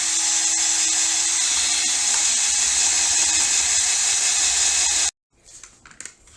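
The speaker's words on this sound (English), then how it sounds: "I'm going to have to drill it out a little bit" A power drill drilling out a rivet hole in a motorcycle exhaust canister whines steadily at high pitch for about five seconds, close and loud, then cuts off abruptly, leaving faint handling noises.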